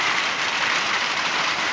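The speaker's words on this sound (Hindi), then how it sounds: "ओए होए हैवी रेन" Heavy rain in Madina falls in a steady, loud, dense hiss with no break, close by and alone, without any voices over it.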